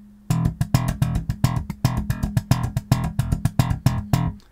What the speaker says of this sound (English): So you play an open E, for example, and then you might just slap, do a dead slap like that.